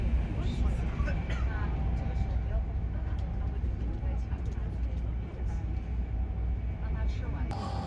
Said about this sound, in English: The train itself was surprisingly quiet.